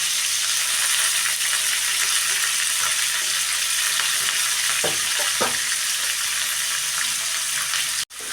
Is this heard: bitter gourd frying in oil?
yes